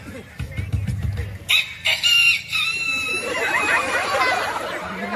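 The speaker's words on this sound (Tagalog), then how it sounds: "tuktukaok sa manok kanang manok pang derby" A nearby derby gamecock rooster crows loudly, a long strained call following brief clucking and low voices.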